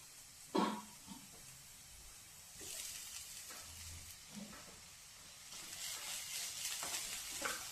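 Coconut paste dropped into a pan of frying beans and beetroot thoran, a soft plop then a gentle sizzle with light stirring and scraping, fairly quiet and close.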